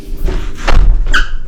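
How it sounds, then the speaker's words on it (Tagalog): A hotel room door opened with a key card: a low thud followed by a short squeak and a latch clunk, close and fairly loud, with no talk. "pasok tayo sa unang pinto dito sa right side"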